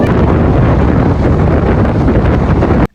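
Strong wind blasts at a Bordeaux beach, roaring into the microphone as a loud, continuous buffeting rush, with the crash of waves mixed underneath until the sound cuts off abruptly near the end.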